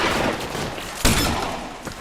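Gunshots in the video game L.A. Noire: a dense, loud rumble with one sharp shot standing out around the middle and a fainter one near the end.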